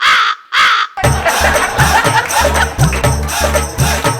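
Two quick caws, then a harsh, repeated crow cawing in a rapid rhythm, loud and close, with no voices.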